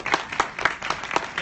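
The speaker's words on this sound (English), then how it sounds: "Give him a huge round of applause" An audience claps for a guest joining the stage, a brief burst of rhythmic hand claps, fairly close and distinct.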